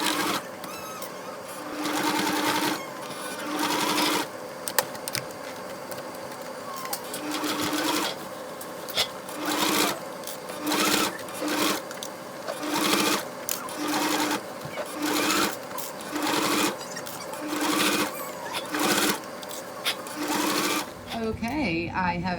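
A sewing machine stitches matching fabric binding onto a handmade bag. The motor hums steadily in repeated runs, with short stops between the bursts, close up, and a voice talks faintly over it at times.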